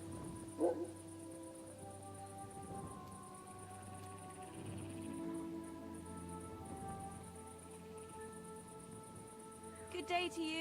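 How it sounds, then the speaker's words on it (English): In Kingdom Come Deliverance 2, a dog barks once near the start and again at the end, with sustained game music droning underneath. "No one wants to hear your barking."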